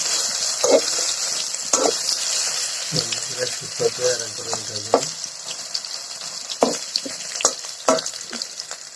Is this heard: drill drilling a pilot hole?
no